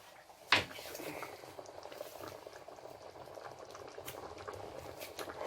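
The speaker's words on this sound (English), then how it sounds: "30 minutos vai ferver, hein?" Pot of chicken curry with coconut milk at a steady boil, a continuous close bubbling and popping patter with a brief sharper clink near the start, no talking.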